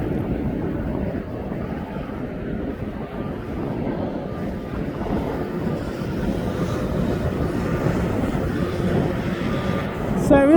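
Ethiopian airliner taxiing at East Midlands Airport, a distant low engine rumble that rises slowly over the clip, blurred by wind buffeting on the microphone.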